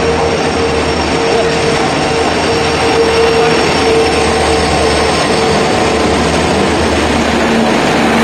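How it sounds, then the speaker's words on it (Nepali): A passenger train rolls into a station on the Dimapur to Siliguri NJP line, with a loud, steady rumble of wheels and carriages and a thin metallic squeal running throughout. "ल म जाने ट्रेन आइपुग्यो है"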